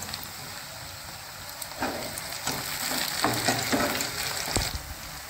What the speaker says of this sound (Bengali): এবারে আমি এর মধ্যে দিয়ে দেবো টমেটো আর কয়েকটা কাঁচা লঙ্কা